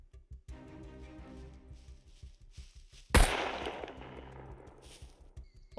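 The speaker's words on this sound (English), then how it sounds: "Is that a sniper?" Sniper gunfire in the survival game SCUM: a single sharp, loud shot cracks out midway and rings off in a long decaying tail, while faint rapid pops and clicks patter before and after it.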